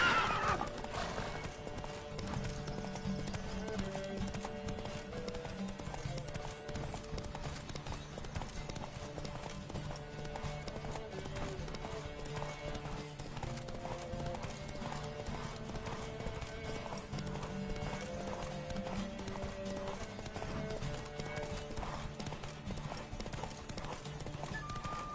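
Horse galloping in The Witcher 2 game, a rapid steady clip-clop of hooves running under game music, with whinnies at times and occasional shouted voices.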